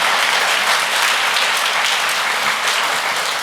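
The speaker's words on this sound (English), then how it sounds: "can you give your teacher a big round of applause as she comes down the stage?" An audience at a kindergarten celebration at Jones Elementary claps for a class and its teacher, a dense, even burst of applause that fills the room without letup for a few seconds.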